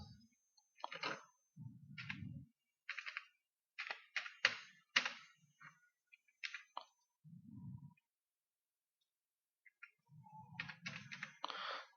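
Someone types a captcha on a computer keyboard, with short bursts of crisp key clicks and a few heavier thumps, separated by silent gaps, close and quiet with no talking.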